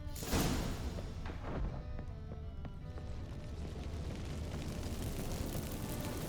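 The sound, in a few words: magic fireworks from activated incense, The Witcher 3 video game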